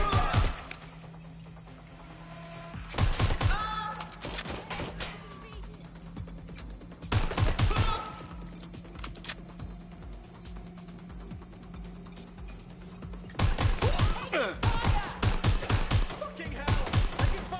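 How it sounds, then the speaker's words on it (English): Bursts of rapid automatic gunfire in the video game Watch Dogs: Legion crackle in clusters over a steady electronic hum, with quieter stretches between volleys. "Suspect is opening fire!"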